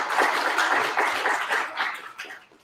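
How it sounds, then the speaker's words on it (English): Audience applause at an art school residents' showcase, a steady wash of clapping from a crowd that holds for a couple of seconds and then thins out toward the end. "Yes, I'll take applause."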